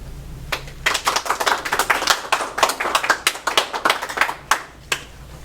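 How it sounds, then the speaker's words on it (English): Banquet audience applauding speakers at a high school FFA chapter event, a dense burst of many hands clapping that swells and tapers over several seconds, with no talk over it. "Please give these speakers a round of applause."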